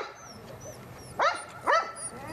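A small female dog at Pet Angels Rescue Shelter in Edmond gives two short, close barks about half a second apart over a quiet, noisy background.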